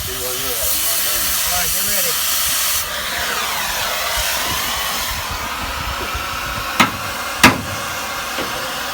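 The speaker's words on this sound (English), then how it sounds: "the bolts that were holding the leaf spring on had to be torched off" A cutting torch burns through rust-welded bolts holding a trailer leaf spring, giving a steady close roaring hiss. A muffled voice is briefly heard early on, and two sharp metallic knocks come near the end.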